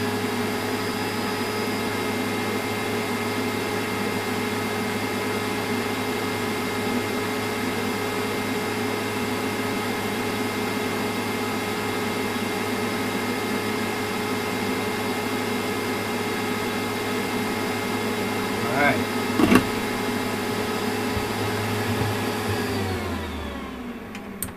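A hot air rework station blows air over a circuit board during repair, a steady whining hum with a constant airflow hiss that runs evenly for over twenty seconds, then winds down near the end; close, with no talk.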